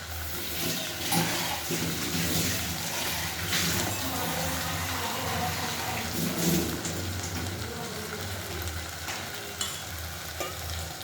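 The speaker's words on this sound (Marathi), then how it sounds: "आता पाणी टाकायचं." Water poured into a pan of vegetable with dal, a steady close pouring and sizzling wash running continuously for the whole stretch, fairly loud with no talk over it.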